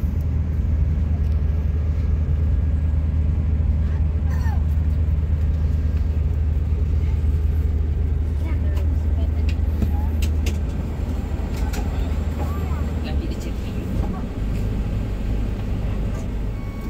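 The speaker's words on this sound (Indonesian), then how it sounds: "busnya lanjut ya" Hilton Sultan Class long-distance bus rolls along the road between Makassar and Palu in Indonesia, its engine rumbling low and steady from inside the cabin, with people talking over the drone.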